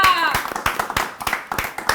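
Sharp clapping from a small group of people in a Bangladeshi Eid comedy drama scene, irregular close claps about a dozen in two seconds, after a brief voice at the start.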